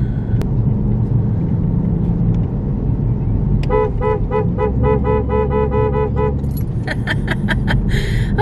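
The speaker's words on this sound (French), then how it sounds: "y a juste moi qui klaxonne quand il y a des grèves" Car horn honking at a city street strike, several short toots and repeated beeps over a steady rumble of traffic and a running car interior, loud and close in the second half.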